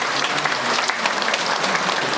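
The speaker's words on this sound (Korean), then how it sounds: "여러분 뜨겁게 박수 한번 해주세요" Church audience applauding warmly, a dense continuous wash of clapping from many hands, fairly loud and sustained throughout with no talk.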